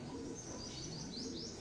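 Racing homer pigeons at a loft give faint chirps and soft coos, a quiet, steady bird sound with no talking.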